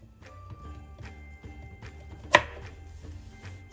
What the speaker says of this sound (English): it's time to cut this carrot on up